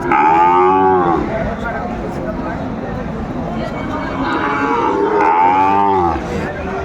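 Cattle moo loudly and close by at a cattle market selling Sahiwal bulls and calves, two long drawn-out lows separated by a noisy stretch of crowd murmur.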